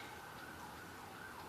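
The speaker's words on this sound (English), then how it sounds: "There are sirens in the background." Emergency sirens wail faintly in the distance outdoors on a snowy day, a soft wavering tone heard alone under low background noise.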